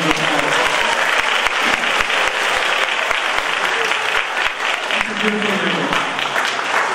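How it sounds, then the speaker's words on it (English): A school assembly audience applauds a yearbook helper with loud, dense, sustained clapping from many hands that fills the room throughout, with a few sharper individual claps standing out. "So let's give her a big round of applause."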